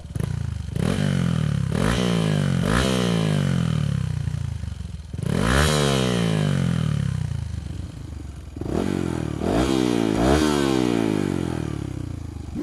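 Honda CT125 motorcycle fitted with a full titanium racing exhaust revs hard in repeated loud bursts, each rising sharply and falling back, with three main rev cycles and no talking.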